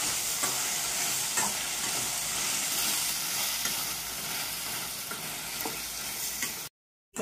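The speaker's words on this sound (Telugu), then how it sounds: "కొత్తిమీర, కరివేపాకు. ఇవి మంచిగా ఇట్లా వేంపుకోవాలి." Steady crackling sizzle of coriander and curry leaves frying in hot oil with tomato, occasional stirring scrapes, continuous and close, ending abruptly in silence.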